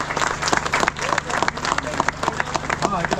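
Crowd applause at the inauguration of a Buddhist vihara in Nivali, dense clapping from many hands sustained throughout, fairly loud and close, with a voice faintly mixed in.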